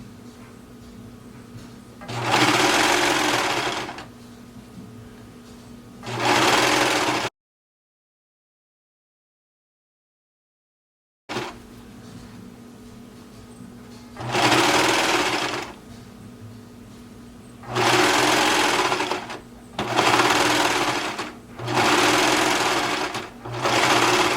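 A sewing machine stitches elastic along a leg seam in several short, loud whirring bursts separated by quiet pauses, with one stretch of complete silence midway.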